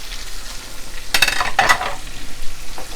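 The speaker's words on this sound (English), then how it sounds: "So I would say fry it for around 10 minutes on each side." Thin liver slices fry in hot oil in a pan, giving a steady crackling sizzle that swells into two louder bursts, likely as the pieces are moved or turned, then eases back to a low background fry.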